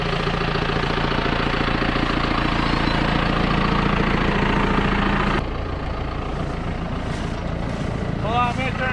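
A New Holland mower conditioner's engine runs steadily at a low, rumbling idle throughout, with a slight drop in level partway and brief voices chattering faintly near the end.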